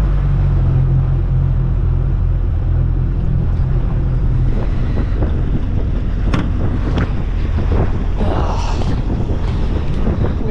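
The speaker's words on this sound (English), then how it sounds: "It's been kind of windy" Wind buffets the microphone on a fishing boat out on Stockton Lake, Missouri, making a constant loud low rumble, with faint water sloshing and a few small knocks, and no one speaking.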